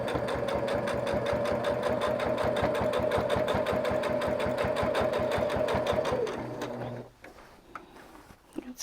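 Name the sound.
sewing machine quilting a batik throw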